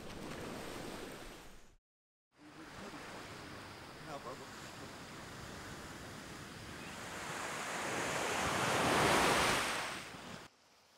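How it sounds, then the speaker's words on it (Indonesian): Ocean waves break on an island beach at Ciletuh Geopark, Indonesia, at rising high tide: a continuous roaring surf that swells louder toward the end, with a brief dropout early on. "kami langsung beristirahat sambil mendengarkan deburan ombak yang semakin pasang"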